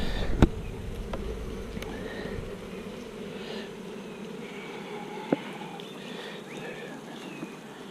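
A steady, dense hum of bees fills the air close by while a beehive is opened for inspection, with a few sharp clicks and knocks of equipment over the continuous buzz and no talking.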